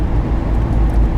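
A 1986 Toyota Land Cruiser FJ60 cruises in neutral on large tires, giving a steady, close, low road hum with broadband rumble that stays constant throughout, with no talking.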